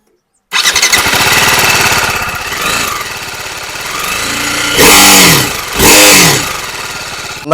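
A TVS Apache RR310 motorcycle engine cranks and starts after a brief silence, then idles loudly and steadily up close, with two sharp revs rising and falling near the end.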